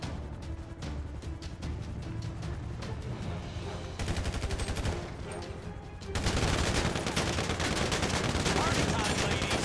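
Rapid bursts of automatic gunfire in GTA5, dense cracking shots that grow louder and more continuous toward the end, with faint voices underneath.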